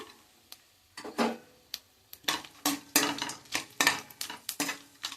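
Whole spices and cashew pieces frying in oil and ghee in a pan, with irregular clinks and scrapes of a utensil stirring against the metal, close and fairly quiet with no talking.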